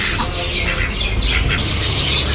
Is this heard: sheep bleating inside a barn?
no